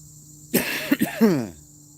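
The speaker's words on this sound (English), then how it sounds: "Having trouble clearing my throat." A person nearby clears their throat with a few rough, throaty bursts, bothered by pollen, while a faint steady hum sits in the background.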